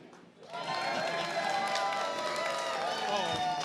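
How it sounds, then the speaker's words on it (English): A large crowd at Tesla Investor Day breaks into loud, sustained clapping mixed with cheers and whoops, swelling quickly after a brief quiet start and holding steady; voices call out within the noise. "You guys clap."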